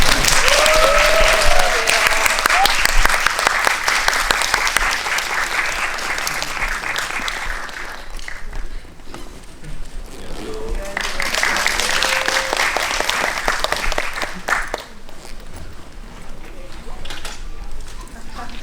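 An audience at a Korean film screening and guest talk gives loud, sustained applause as the director, lead actor and poet are welcomed. The clapping swells twice, with a short dip in between.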